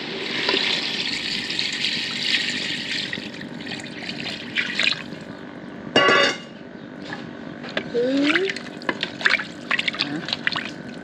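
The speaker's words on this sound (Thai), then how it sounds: "เดี๋ยวเติมน้ำลงไป" Water poured into a cooking pot holding fragrant red curry paste for a Lao-style jaew dish, a steady splashing trickle with a few clinks and faint background voices.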